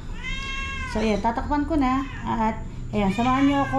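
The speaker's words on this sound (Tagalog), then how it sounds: "At naririnig nyo ba sa background ko yung pusa?" A cat meows repeatedly near someone grilling tilapia outdoors, drawn-out wavering cries rising and falling close by, mixed in with a person talking over them.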